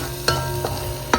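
Rice and vegetables searing and sautéing in a Buydeem slow cooker, a steady low sizzle broken by three soft stirring scrapes.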